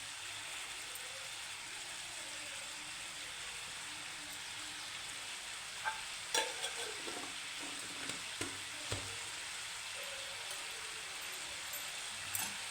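Cabbage and cauliflower sabzi mixed with crushed peanut powder hisses softly in a pan, with a few light scrapes of a spoon stirring it, faint and steady with no voices.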